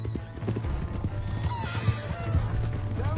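A horse in Red Dead Redemption whinnies briefly amid clip-clopping hooves and scuffling game noise, moderately loud and close, with brief voices in the background.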